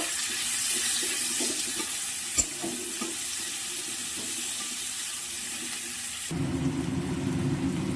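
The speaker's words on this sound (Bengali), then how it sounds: "এবার পেঁয়াজ কুচিটা দিয়ে দিলাম এটা পেঁয়াজ কুচিটা একটু ভালো করে ভেজে নেব" Chopped onion sizzles steadily in hot oil with bay leaf and green chillies while a few utensil scrapes and a single sharp clink break the fry; the sizzle grows louder and denser toward the end as stirring continues.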